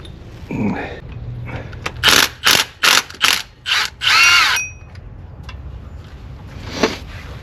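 A ratchet backs out water pump bolts on a Dodge Ram 2500 with a 5.7L Hemi, giving a close, loud series of about six quick clicking bursts in a steady rhythm, with brief mechanical handling sounds before and after.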